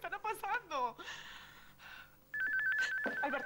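A mobile phone ringtone starts partway through and keeps ringing as a steady electronic tone, heard close alongside voices with a gasp and breathing.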